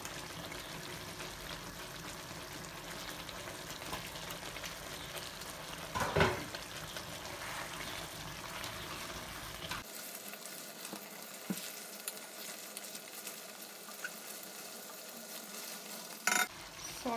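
Tomato puree frying over high flame in a chicken karahi gives a steady, close sizzle with occasional stirring clinks and a brief splash of added liquid midway, no voices.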